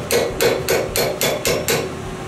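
A hammer strikes metal on a Massey Ferguson 35 tractor, seven loud, evenly spaced ringing blows close by with no talking.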